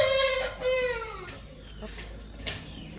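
A Miyach hen, a healthy backyard chicken, gives a loud drawn-out call with stacked harmonics, descending toward the end, followed by softer clucks and rustling close by.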